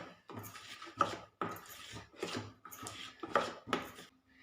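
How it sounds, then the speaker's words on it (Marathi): Semolina cake batter being mixed with a cut-and-fold motion in a bowl, giving soft, rhythmic scraping and tapping strokes roughly every half second, faint and close. "छान कट अँड मोड असंच आपल्याला पीठ मिक्स करून घ्यायचं"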